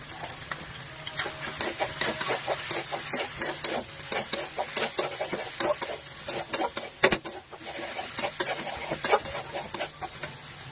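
Pasta is stirred in a pan with tomato, oyster and Maggi sauces plus black pepper, producing a rapid, uneven series of wet scrapes and clicks of a utensil against the pan.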